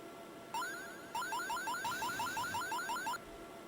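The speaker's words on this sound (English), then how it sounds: "I don't know what the alarm is, I don't care, I'm turning it off" An electronic alarm in an Amiga driving video game sounds a rapid, repeating two-tone warble, a short burst followed by a longer run of pulsing chirps, steady and moderately loud before cutting off, with no speech over it.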